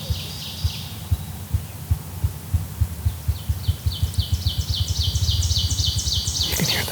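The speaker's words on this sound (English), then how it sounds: "You can hear that grouse drumming." A ruffed grouse drums in an Ontario forest, its low muffled thumps starting slow and speeding into a rapid roll that swells louder. Birdsong chirps continuously above it, and no one is talking.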